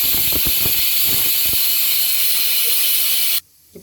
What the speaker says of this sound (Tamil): ஒரு விசில் விட்டு எடுத்துக்கலாம்.